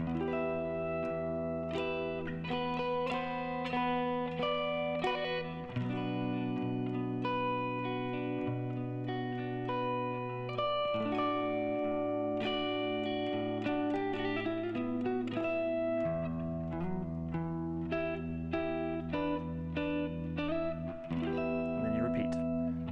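Electric guitar plays a riff, sustained chords and picked notes ringing with effects and a hint of distortion, steady and continuous for over twenty seconds.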